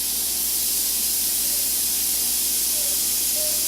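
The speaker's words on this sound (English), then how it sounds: "I'm just going to drop the fish on here" Fish pieces sizzle on a hot Cuisinart griddle, a steady close hiss that holds evenly from start to finish with no talk over it.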